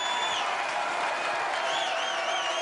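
A darts crowd at the 2012 World Championship semi-final between Tony O'Shea and Wesley Harms keeps up steady applause and cheering, a dense, even wash of clapping with a few whistles and whoops cutting through.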